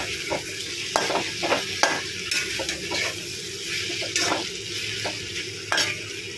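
Okra with salt stirred in a frying pan, a steady sizzle broken by repeated scraping strokes of a spoon at an irregular rhythm, close and fairly loud with no voices.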